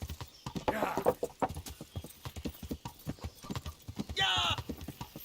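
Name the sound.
horse hooves galloping in the video game Kingdom Come Deliverance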